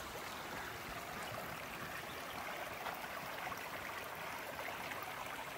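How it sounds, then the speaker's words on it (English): Sinking Creek, a small stream at a trail crossing, flows with a faint, steady rushing murmur heard from a short distance. "Little creek crossing first thing in the morning."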